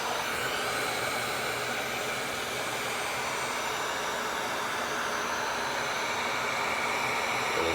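A Wagner heat gun blowing hot air, giving a steady, continuous whooshing roar at close range with no change in pitch and no talking.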